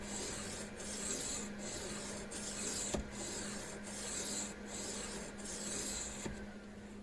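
A pocket knife blade is drawn across a Ruixin Pro sharpening stone in repeated, evenly spaced rasping strokes, about eight of them, close and fairly quiet, with no talking.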